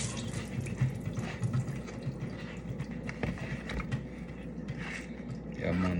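Tap water runs steadily over garden vegetables being washed at a sink while cooking a Jamaican meal, a constant close splashing flow that swells slightly louder near the end.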